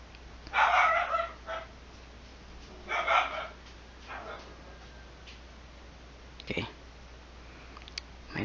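A dog barks indoors in a couple of short, fairly close bursts, with a few fainter sounds between them, while a person talks quietly during an acrylic painting session.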